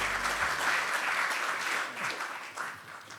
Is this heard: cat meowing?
no